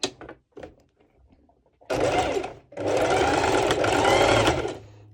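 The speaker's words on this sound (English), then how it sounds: "I'm going to show you how I'm sewing my elastic band" A sewing machine runs a straight stitch attaching an elastic band to a sporty racerback top, two close bursts of rapid whirring stitching after a few light handling taps.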